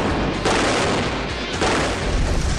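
Blast from a 1,000 lb bomb detonated for a Mythbusters test, heard as a sustained, loud, rumbling roar with a second surge of booming energy partway through, filling the whole clip without speech.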